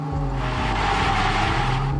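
A race car cornering in the REVV Racing video game, its engine droning steadily at high revs with a continuous tonal whine and a faint tire-scrub hiss, loud and unbroken.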